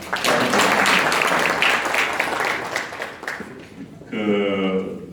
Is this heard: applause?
yes